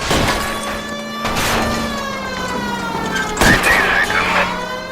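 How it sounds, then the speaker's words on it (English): Gunshots fired at a fleeing car's tires in the video game L.A. Noire, a few sharp bursts cracking over a steady wailing police siren during a vehicle chase. "I'll try to shoot out his tires."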